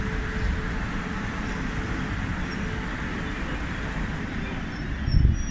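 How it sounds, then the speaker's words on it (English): An English train rolling past at a station in Reading, a steady low rumble of wheels and engine that holds evenly before a brief heavier thump near the end, no talking. "These are what English trains look like"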